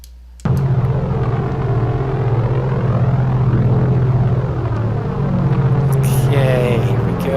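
Simulated Junkers EF-126 pulse-jet engine in Flight Simulator X: starts abruptly and sustains a loud, steady, buzzing rumble throughout, with faint clicks near the end.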